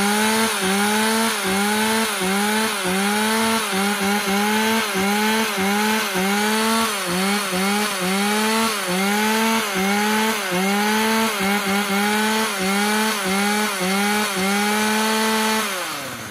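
A chainsaw engine runs loud and close, its pitch rising and falling in steady rhythmic revs throughout, with no talking.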